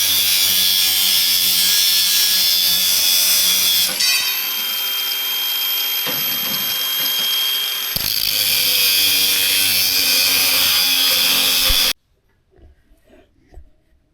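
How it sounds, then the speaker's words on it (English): Power tool cutting rebar for greenhouse posts, a loud harsh whining grind that shifts pitch as the cut goes on, then stops abruptly, leaving faint background noise. "We're cutting the rebar for making the post."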